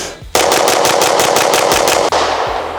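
A rapid string of about ten pistol shots from an Ed Brown Fueled Series M&P pistol, loud and close, fired in a quick even rhythm with no talking.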